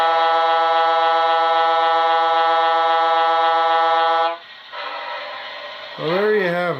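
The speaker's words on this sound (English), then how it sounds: "Lastly, gotta do the air horn, the Leslie" Leslie A200 air horn played by a Soundtraxx Econami steam DCC sound decoder: one long, loud, steady multi-tone blast that cuts off, leaving quieter hiss, then a short rising-and-falling horn burst.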